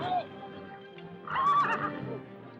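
A temperamental horse whinnies near the start and again, louder and longer, halfway through, mixed with faint background noise and no talking.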